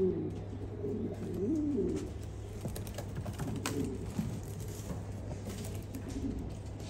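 Domestic pigeons of a new breed, a paired team ready to breed, coo in low repeated warbling phrases throughout, fairly close, with a steady low hum and faint clicking in the background.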